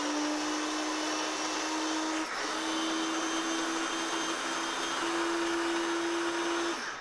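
A food processor blends shredded coconut and ground flaxseed for a raw vegan cheesecake, giving a loud, steady motor whine with a constant pitch and one brief dip partway through.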